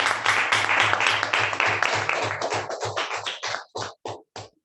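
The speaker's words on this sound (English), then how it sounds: "It gives me immense pleasure hearing this applause after a long time." Audience applause at a hybrid Toastmasters meeting: dense, steady clapping that gradually thins into a handful of scattered, separate claps at the end, over a faint low hum.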